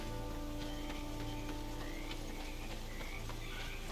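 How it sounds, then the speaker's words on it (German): Frogs croak in a lush outdoor area of the game Greedfall, a dense chorus of repeated rhythmic croaks layered over a constant rain-like wash and a steady low hum, loud and continuous with no talk. "Wie cool das hier abgeht mit den ganzen Fröschen und den Vögeln"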